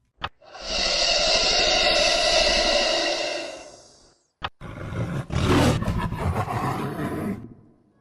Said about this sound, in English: Other noises are hissing and sharp roars.